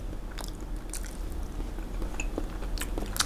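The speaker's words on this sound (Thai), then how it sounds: "มากินแค่ไข่ก่อน" Biting and chewing a whole Vietnamese duck egg that still holds the developing duckling: soft, wet crunches and chews repeat through the clip at close range, with no talking.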